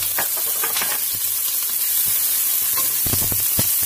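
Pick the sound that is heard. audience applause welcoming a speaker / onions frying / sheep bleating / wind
onions frying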